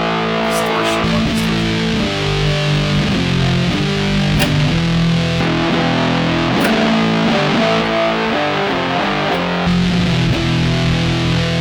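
Yamaha MODX guitar synth run through a distortion effect, playing a dense, gritty riff of chugging chords and notes, loud and continuous throughout.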